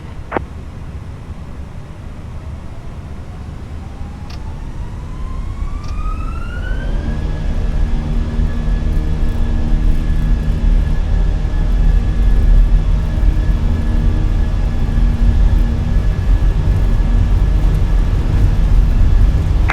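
An Airbus A320-200 spools up for takeoff in Microsoft Flight Simulator, a steady loud jet roar with a rising whine that climbs then levels into a sustained tone.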